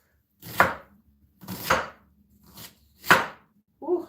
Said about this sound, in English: I don't like cutting onion, guys.